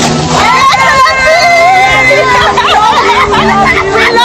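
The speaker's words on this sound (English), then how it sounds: "our Naija brothers and sisters in the diaspora had lined the streets cheering on the delegation" Diaspora Nigerians lining a street, a dense crowd cheering and calling out continuously, loud and close, with many overlapping voices and shouts throughout.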